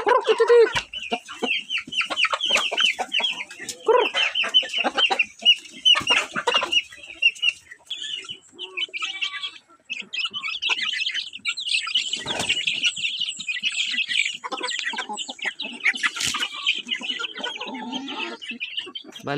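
Free-range chickens cluck repeatedly in quick, uneven bursts while being fed, fairly close, with occasional wing flaps and a busy farmyard feel; no one speaks.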